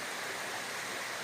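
Small cold mountain waterfalls and a clear stream give a steady, even rushing and splashing that fills the space with no pauses and no voices.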